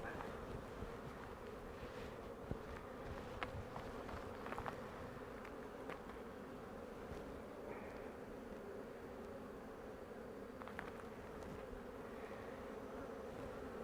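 Honeybees drone in a steady, close hum at an open hive during an inspection for queenlessness, with a few faint clicks and knocks of handling on top.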